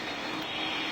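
Steady broadband roar of an airliner taking off, heard through fog at a regional airport, loud and continuous for one second with no voices.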